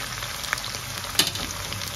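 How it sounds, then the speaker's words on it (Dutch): Sardines frying in extra oil give a steady sizzling hiss, broken by a couple of sharp spattering pops. "als je sardine bakt, mag wel een beetje extra olie"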